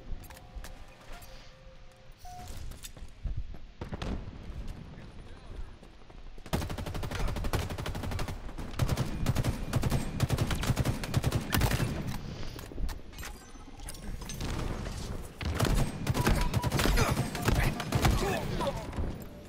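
Sustained video game gunfire fills the scene, with rapid bursts of automatic shots after a quieter opening, loud and continuous with brief lulls and no talking.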